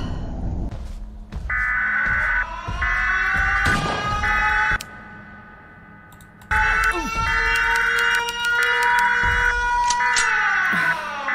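The Siren Head monster's rising and falling siren wail in a video game repeats in long pulses, loud and close, broken by a brief lull in the middle before the wailing returns.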